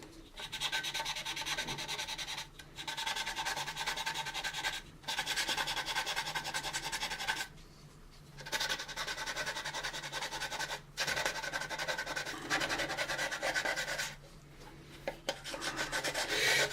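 Sandpaper rubs across the plastic hull of an AMT 1983 U.S.S. Enterprise model kit in long, light back-and-forth strokes, a continuous close scratchy rasp broken by a few short pauses.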